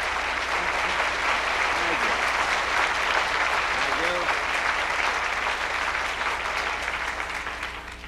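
Warm, sustained applause from a studio audience at The Lawrence Welk Show for guest Jack Benny, dense and steady for several seconds before gradually fading, with faint voices briefly audible beneath the clapping.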